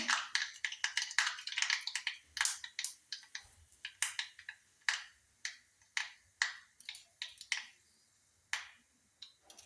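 Mustard seeds pop in hot oil as a rapid, irregular series of sharp ticking cracks, crowded at first and then thinning out into scattered single pops, close and crisp against an otherwise quiet background.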